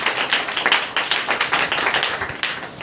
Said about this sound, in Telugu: ఒక్కసారి చప్పట్లు కొడదామా?